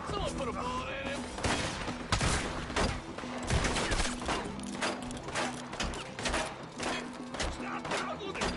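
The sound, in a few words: gunshots in Red Dead Redemption 2 video game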